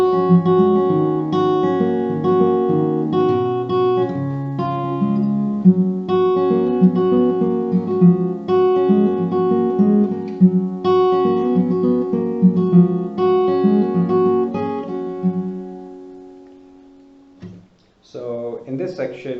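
Guitar plays the third section of a song, a steady run of plucked chords and picked notes, loud and close for about fifteen seconds before fading, followed by a short burst of other sound near the end.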